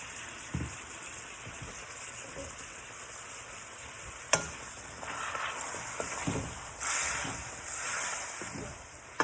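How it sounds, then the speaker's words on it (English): Pepsi chicken with honey being stirred in a stovetop pan, a steady close sizzle with soft scraping strokes and occasional louder clacks of the utensil, no voices. "Mix everything together"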